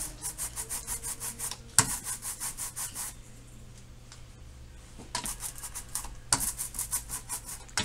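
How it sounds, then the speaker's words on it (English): Brayer rolling linoleum printing ink across an inking tray, a repeated sticky, tacky rasping in steady back-and-forth strokes with a couple of brief pauses, close and fairly quiet. "Now you hear that sticky sound? That's how you know you're getting the right amount of ink on your brayer."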